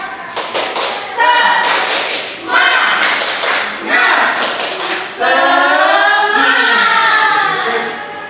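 A primary school class doing the rhythmic tepuk semangat clapping chant, several sharp claps in patterned groups mixed with the children and teacher chanting together in a classroom.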